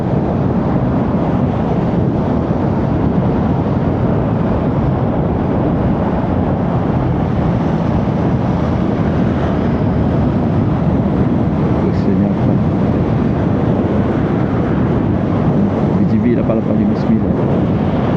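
Steady, loud wind rush buffeting a microphone while riding an electric motorcycle with no windshield, continuous throughout, with a low rumbling roar beneath and a voice talking over it.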